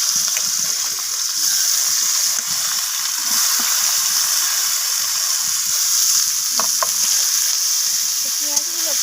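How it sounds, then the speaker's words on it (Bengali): Chopped onions hit hot mustard oil with whole spices in a pan, giving a continuous loud hiss of frying with faint scattered stirring clicks, close up and without speech. "এরপর আমি এখানে কেটে রাখা পেঁয়াজগুলোকে দিয়ে দিলাম।"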